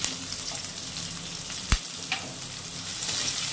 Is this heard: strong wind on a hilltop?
no